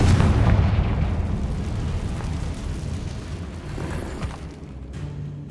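The Confringo fire spell explodes in the video game Hogwarts Legacy with a loud, rumbling blast that opens strongly and then decays through a sustained, crackling low roar.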